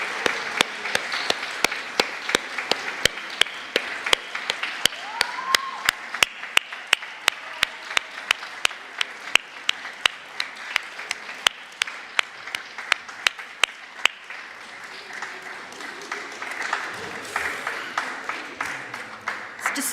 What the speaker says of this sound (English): Let's give them a round of applause as they come to the front.